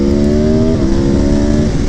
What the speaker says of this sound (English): the sound of this V4 engine sounds like a MotoGP bike, and it sounds amazing